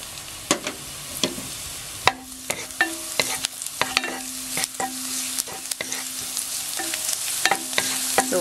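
Garlic dropped into hot cooking oil for a crab-in-coconut-milk dish sizzles steadily, with a spoon or spatula scraping and clinking against the pan in irregular strokes.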